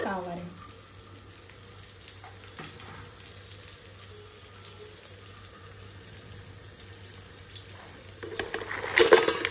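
Kavari fish dropped into a hot pan of cooked masala, with a low steady simmer that swells into a louder, close sizzle near the end.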